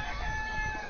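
Native country chicken (naatu kozhi) calling with a strong, continuous crowing note held steadily through the whole second, close and fairly loud, with no talking.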